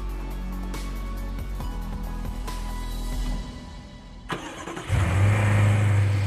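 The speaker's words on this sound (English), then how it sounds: "You are listening to the pinnacle of the all-new BMW X6's petrol engine range" A 2015 BMW X6 petrol engine hums steadily, then briefly dips before revving up into a louder, deeper roar, heard from close by with no voices.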